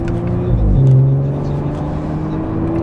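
A loud twin-turbo Audi RS5 engine hums and rises as it accelerates, a steady close motor drone with no voices.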